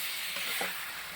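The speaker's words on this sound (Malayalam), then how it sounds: "പോർക്ക് ഗ്രേവിക്കകത്തോട്ട് പോർക്കിട്ടു ഇളക്കുന്നു." Cooked pork is stirred into a thick curry gravy in a hot pan, giving continuous loud sizzling and frying with soft scraping as the spoon moves through the mix.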